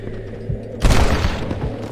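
A gunshot in Red Dead Redemption lands as a single loud, boomy blast with a short rumbling tail, close and prominent over a low steady background hum.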